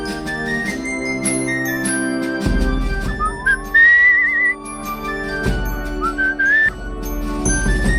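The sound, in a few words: whistling in video game Where the Water Tastes Like Wine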